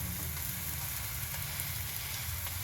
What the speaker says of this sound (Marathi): आपण बघू शकता या ठिकाणी आपला पराठा छान भाजला जातो आहे.